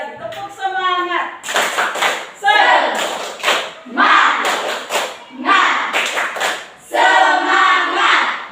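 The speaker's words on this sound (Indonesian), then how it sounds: "Tepuk semangat." A classroom of pupils performs a rhythmic spirit clap, bursts of group clapping alternating with loud chanted voices in a repeating pattern.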